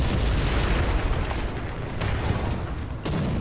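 Bombs burst in the tank battle game War Thunder, heavy rumbling booms layered one after another, loud and close, with a sharp extra crack near the end.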